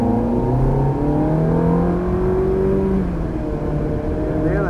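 An exotic car accelerates hard from beside a cone, its engine pitch rising steadily in strong, close sweeps through several gears before easing, with a faint whine layered over the roar.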